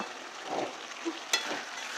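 Chicken fries in a kadai, sizzling steadily while being stirred, with soft scraping and a sharp knock partway through.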